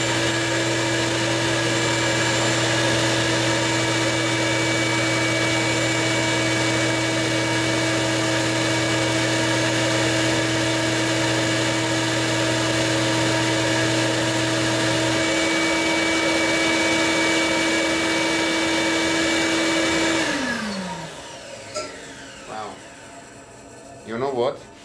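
A lathe-style cutter trims a Dictaphone wax cylinder with a loud, steady whirring motor hum and a sustained tonal drone, then the motor winds down and stops near the end, leaving faint handling noises.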